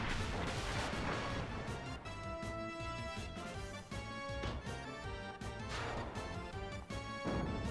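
Bolt spell cast in the video game Final Fantasy I, a harsh crackling electric burst with crashing impacts over dense retro battle music, loud and busy throughout.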